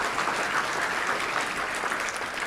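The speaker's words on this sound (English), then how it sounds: "Let's give a big round of applause for all of our staff of the Touchdown Club." A crowd at a Little Rock Touchdown Club gathering gives a round of applause, dense and sustained clapping filling the whole short stretch.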